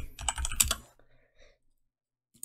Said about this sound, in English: I immediately just type Brave browser